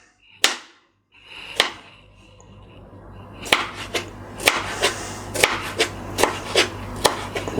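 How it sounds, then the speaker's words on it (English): A knife slicing tomatoes into cubes on a board, with two sharp isolated chops followed by a run of quicker, fairly regular cuts, close and crisp with no talk. "So then we're just going to slice."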